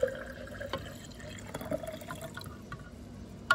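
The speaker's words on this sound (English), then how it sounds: "I'm going to take my water and pour it in" Water pours into a glass mason jar in a few soft, brief trickles and splashes, close and quiet, with no talking.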